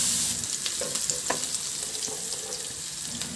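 Garlic and onion sauté in hot oil in a pan, a steady close sizzle with small stirring scrapes and clicks scattered throughout, no voices.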